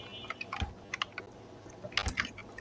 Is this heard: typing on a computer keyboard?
yes